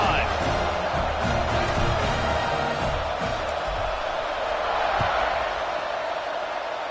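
Dense, steady roar of a large football stadium crowd during a kickoff, a broad wash of many voices with scattered shouts and faint thumps, continuous throughout with no single voice standing out.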